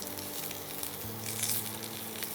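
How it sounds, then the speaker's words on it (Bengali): Garlic and green chilli frying in a pan for a Bengali jhinge and green banana peel paste, a steady close sizzle running throughout with a low hum underneath. "এটা বেশি ভাজা হচ্ছে না?"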